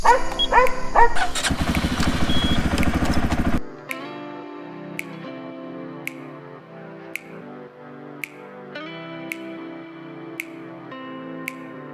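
A quad bike engine buzzes loudly for a few seconds, with dogs barking at the start. It cuts off abruptly and leaves quieter steady tones with regular faint ticks.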